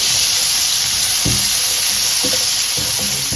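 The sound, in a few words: garnish vegetables frying in a pan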